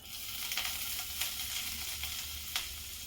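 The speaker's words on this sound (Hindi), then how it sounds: "आप लोग देख सकते हैं जीरा और सूखी लाल मिर्च, हींग अच्छी तरह भून चुका है" Cumin seeds, dried red chillies and asafoetida frying in hot oil make a steady, soft sizzle with faint crackles and a few sharper pops, continuous and close with no talking.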